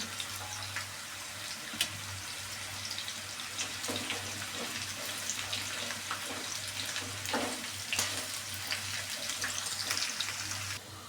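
Bitter gourd pieces fry in oil over low heat in a home kitchen, giving a steady, close crackling hiss that runs unbroken throughout, with a faint low hum beneath and a few slightly louder pops.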